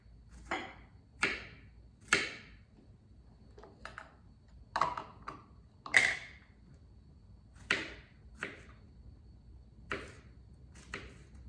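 A knife chopping rinsed, destemmed produce on a cutting board for cold meal prep, about a dozen sharp, close knocks at an uneven, unhurried pace with quiet gaps between, no talking.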